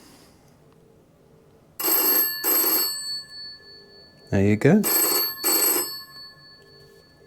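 A British GPO 706 telephone's bell rings in two pairs of loud, close, shrill bursts, with a speaker briefly talking between the pairs.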